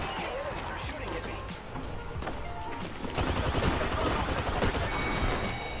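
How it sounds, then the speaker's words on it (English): A continuous barrage of enemy gunfire in a busy Apex Legends match, dense and layered throughout and growing heavier partway through. "Enemies are shooting at"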